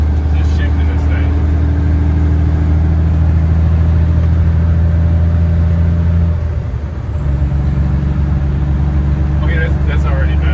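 A Peterbilt cabover truck's engine runs loud and close with a steady low drone, dipping briefly as the driver shifts gears mid-drive before the engine note resumes at a new pitch.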